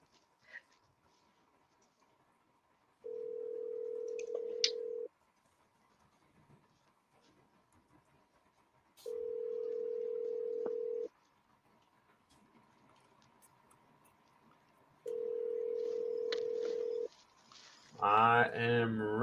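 An outgoing phone call ring-back tone repeats three times, each a steady two-second electronic purr separated by long gaps of near-silence. A voice begins speaking at the end.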